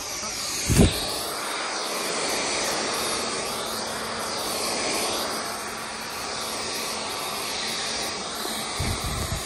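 A vacuum cleaner drones steadily and loudly throughout, a continuous rushing whine, with a brief thump near the start.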